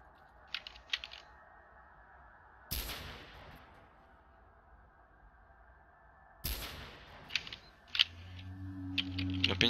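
Gunfire at a shooting range in the video game S.T.A.L.K.E.R., with two loud sharp shots several seconds apart over a low steady hum, followed by smaller clicks and mechanical handling sounds.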